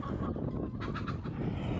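Free-range chickens on a hillside farm being given feed, with a few faint clucks and short scratchy bursts over a constant outdoor background noise.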